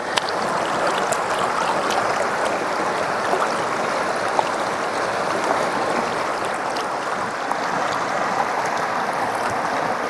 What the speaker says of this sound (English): Now all we got to do is pan out our concentrate.